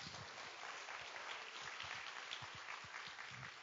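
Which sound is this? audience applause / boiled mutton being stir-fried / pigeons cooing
audience applause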